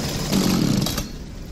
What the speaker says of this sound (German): Kann ich den Motor abstellen?